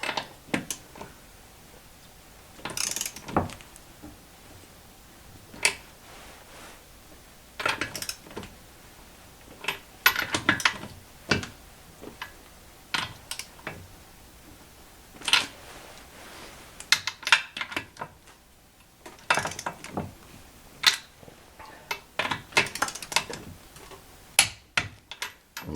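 A wrench torques the engine mount bolts on a MerCruiser Alpha One sterndrive, giving scattered quiet mechanical clicks and ratcheting ticks in short bursts, close by and with no talking.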